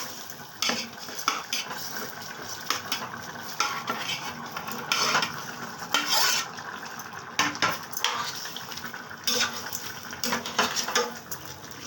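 Eggs and chopped ginger go into a pan of egg curry and are stirred, with a spoon repeatedly scraping and clinking against the pan over a soft sizzle, close and steady with no talking.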